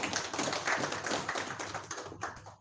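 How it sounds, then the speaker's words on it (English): Applause from the audience at a sponsorship event for the Gulu City Oktoberfest sounds as brisk, fairly quiet clapping, a dense patter of claps that holds steady and then fades away toward the end. "Ladies and gentlemen, let's give him a big round of applause."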